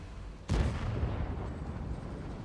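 A tank cannon firing in a video game, a single heavy boom with a rumbling tail, alone.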